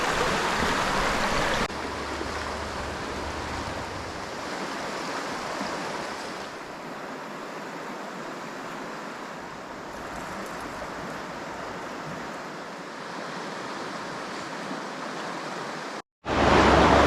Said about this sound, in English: there is a lot of water coming down here at the moment